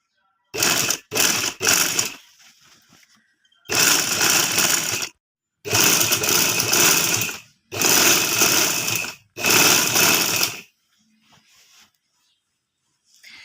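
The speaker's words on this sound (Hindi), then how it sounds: "इनको जोड़ लगाएँगे यहाँ से सिलाई लगा के" Sewing machine stitching pieces cut from old denim jeans into a lunch bag, running in five loud bursts of rapid stitching separated by short pauses, with faint handling noise between runs.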